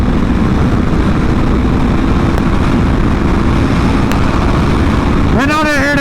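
Loud, constant roar of a crossplane motorcycle engine, likely a Yamaha R6, close by, with a rising whining rev near the end.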